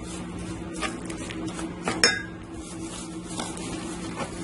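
Brown sugar being stirred into a cassava mixture in a pot, with a utensil scraping and clinking against the metal in steady strokes, one sharper clink standing out midway, close and fairly quiet.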